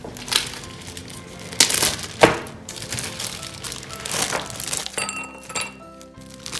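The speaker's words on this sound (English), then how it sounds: "So the first thing we're going to start with is a couple of ice cubes." Ice cubes dropped into a glass for a cranberry apple shrub drink, several sharp clinks and cracks scattered over a few seconds, close and fairly quiet with a faint room hiss.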